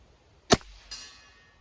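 Diana 52 .177 air rifle firing once at an outdoor range, a sharp close crack followed a moment later by a fainter impact and a short fading ring, otherwise quiet.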